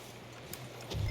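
A horse's hooves clip-clop at a steady walking pace in Red Dead Redemption 2, close and moderately loud for about a second, ending in a heavier low rumble.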